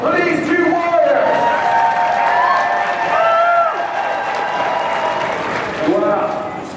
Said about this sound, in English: A nice round of applause for these two warriors.